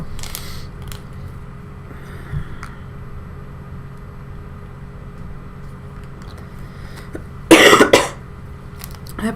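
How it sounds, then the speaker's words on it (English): A single short, loud cough near the end, standing out over a quiet room hum. "I apologize for my cough."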